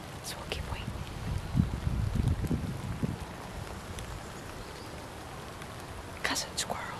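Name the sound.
rain falling in the woods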